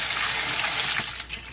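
Water gushes steadily from an aquarium siphon into a sink during a large tank water change, a loud continuous broadband rush that eases slightly toward the end.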